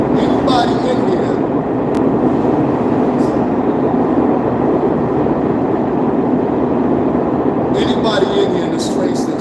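Subway train rumbling steadily inside a New York station, a loud continuous low roar with brief hissing and squealing bursts near the start and end, no talk over it.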